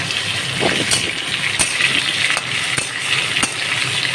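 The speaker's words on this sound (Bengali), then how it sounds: "আলুগুলো এবার একটু ভাজা ভাজা হবে।" Potatoes fry in hot oil with whole cardamom, cinnamon, bay leaves and cumin seeds, giving a steady bubbling sizzle with a few sharp clinks of a spoon against the pan.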